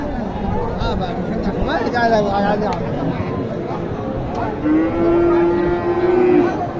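Cattle at the Matazi livestock market in Naogaon, Bangladesh, with cows being sold for meat; a low, drawn-out moo rises near the end over a steady babble of crowd chatter and market noise.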